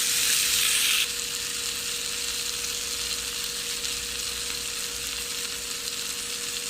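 Small fresh green beans sizzle steadily in a pan, a loud constant frying hiss with a brief brighter burst at the start, no voices.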